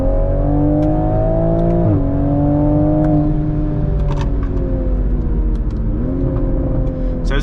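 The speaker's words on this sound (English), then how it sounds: "All right, so we're just gonna get on it a little bit here. We're gonna downshift." A stock Toyota Supra 3.0 Premium engine pulls hard after a downshift, its loud, steady drone climbing through the gears with brief dips at each shift, heard from inside the car.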